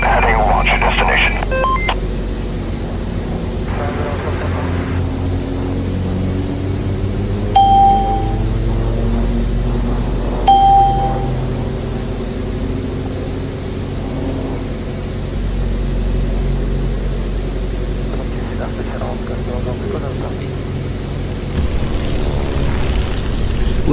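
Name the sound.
airplane taking off and climbing in Eurofly flight video game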